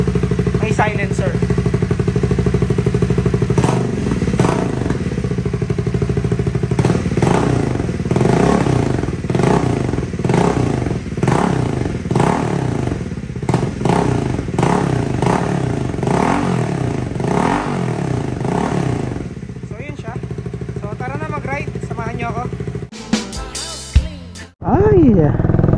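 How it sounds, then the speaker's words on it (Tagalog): A Triumph Speed 400 motorcycle fitted with a silencer is revved repeatedly and loudly in a series of rising throttle blips. A radiator fan is running, and near the end the engine cuts out and some handling clatter follows. "Try ko ng bombahin para marinig nyo yung may silencer."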